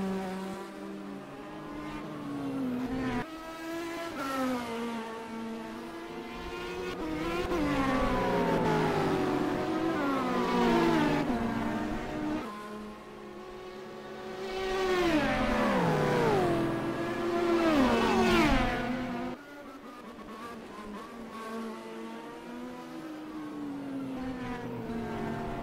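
Race cars lapping Monza in an RSA winter season race, engines loud and close, climbing and dropping through gear changes with repeated acceleration sweeps, one car after another passing.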